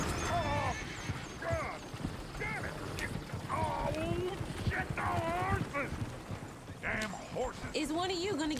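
A horse whinnies several times in shrill, wavering bursts amid steady clip-clopping hooves in Red Dead Redemption 2, with faint murmuring voices in the background.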